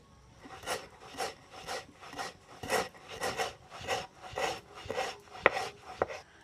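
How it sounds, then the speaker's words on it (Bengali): Sour sugar (citric acid crystals) ground by hand on a flat shil-nora stone slab with a stone pestle, a steady series of rhythmic scraping, crunching strokes about twice a second, close and moderately loud with no talking. "প্রথমে আমি এই টক চিনিটাকে শিলনোড়ায় গুঁড়ো করে নেব।"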